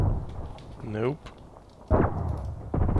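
Gunfire from a Glock pistol in the online shooter Contract Wars, sharp bursts standing out against a voice talking over the game, one loud report near the middle followed by another.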